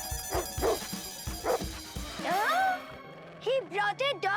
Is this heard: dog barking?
yes